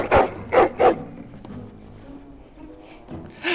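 A hound in the video game Dragon Age: Origins gives three quick, loud barks close by, followed by quieter whimpering noises and another bark at the end.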